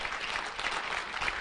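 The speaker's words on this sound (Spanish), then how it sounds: "eso merece un aplauso" Dense, steady audience applause at a church sermon, many hands clapping together at moderate distance, with no voices over it.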